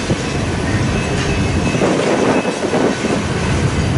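A Union Pacific freight train with gondola cars rolls past nearby, a loud, steady rumble of wheels on rail with rhythmic clatter and no talking.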